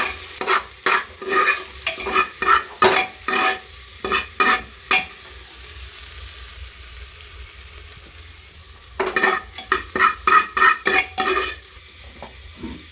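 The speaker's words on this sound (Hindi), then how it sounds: "इसलिए सबसे पहले प्याज को पूरा भून लेते हैं" Chopped onions sizzle and fry in a pressure cooker while a spoon stirs them in bursts of scraping strokes, with a quiet pause in the middle and steady frying hiss throughout, close and fairly loud.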